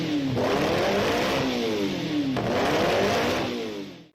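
Alfa Romeo 2-liter V8 revving hard toward a high-pitched scream, with two rising sweeps that climb, drop and climb again, loud and close, no talk.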